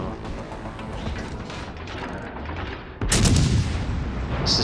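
A warship's naval gun fires in a video game, a sudden heavy boom that cuts through steady engine and sea rumble, then a sustained roar that fades slowly.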